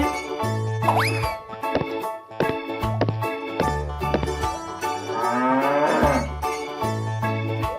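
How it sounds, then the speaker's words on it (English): A cartoonish cow moos several times among playful sound effects and bouncy boings in a fun animal transformation piece, loud and close, with no talk. "Cow."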